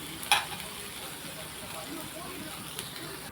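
A plain dosa cooks on a hot pan with a soft, steady sizzle, faint and continuous. A light tap sounds near the start, and a person talks over the sizzle.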